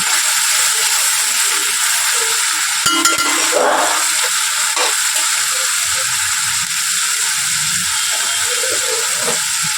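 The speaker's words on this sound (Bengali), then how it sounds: "এবার মশলাটা ভালো করে কষাতে দেবো।" Masala with Kashmiri chilli powder frying and being stirred in a pan for chicken biryani, a loud steady sizzle with scraping strokes of the spoon, close up and without talk.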